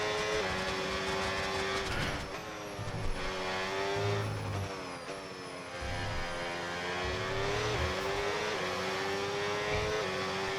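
Red Bull Formula 1 cars racing in the F1 26 video game, their high-pitched engines screaming loud and continuous, rising and falling with gear shifts and a car passing close by.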